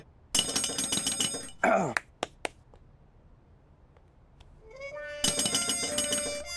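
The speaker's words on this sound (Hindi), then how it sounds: "घंटी बजा।" Doorbell rung, an electronic chime pattern playing twice with a few clicks and knocks between, fairly close against a quiet background.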